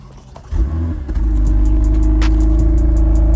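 A stock-exhaust Toyota TRD engine is started by remote start: a quiet pause, then a cranking catch, then a rising rumble that settles into a steady, loud close idle.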